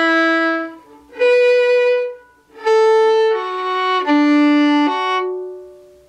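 A solo fiddle plays the Irish reel Drowsy Maggie in slow, separate bowed notes, clear and close, with short gaps between phrases and no other sound.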